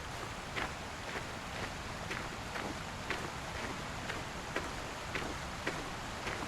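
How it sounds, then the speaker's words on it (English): Waterfall in the Ultimate Hunting video game, a steady broadband rush of falling water with faint rhythmic ticks through it, continuous and fairly close. "The waterfall sounds pretty good."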